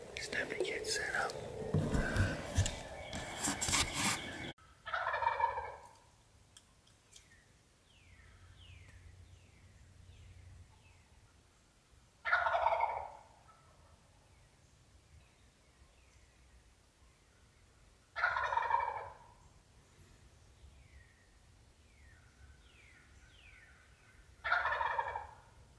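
Wild turkeys gobbling in spring woods, four loud rattling gobbles spaced several seconds apart at a moderate distance, with quiet whispering and rustling near the start.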